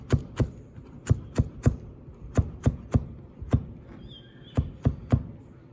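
Knife mincing purple basil finely on a cutting board, with a rapid series of about sixteen sharp chops in uneven bursts, close and crisp. A faint tone sounds briefly partway through.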